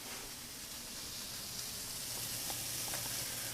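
Onions fry on a stainless steel griddle over an induction range, a soft, even hiss of sizzling with faint crackles, quiet and continuous with no talking.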